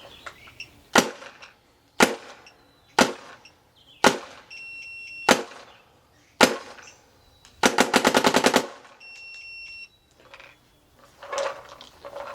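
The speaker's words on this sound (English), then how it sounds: "I'm just going to fire a couple over the chrono." A Planet Eclipse CS2 paintball marker fires over a chronograph: sharp single shots about a second apart, then a rapid burst. Short electronic beeps sound between shots. The shots are close and loud, with no talking.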